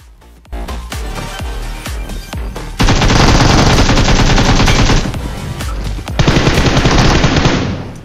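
Loud, close sustained automatic gunfire in BGMI, starting as separate sharp shots and then breaking into two long continuous rattling bursts with a short gap between them.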